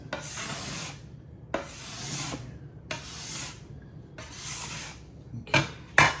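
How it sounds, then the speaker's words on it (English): A bench scraper rasps across a counter, clearing cinnamon roll dough in five close, steady strokes separated by short pauses, with a couple of sharper scrapes at the end and no talking. "Again, the bench scraper, it's so good for this."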